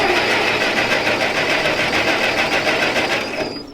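A Massey Ferguson 65 tractor engine running with the throttle turned up, a loud close steady chugging drone that fades slightly in the last moments.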